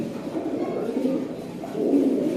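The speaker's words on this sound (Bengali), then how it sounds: "একদম ফুল অ্যাক্টিভ কবুতর, সুস্থ সবল কবুতর" A healthy, active pair of pigeons in breeding mood coo nearby in low, rolling phrases that swell louder toward the end, with no talking.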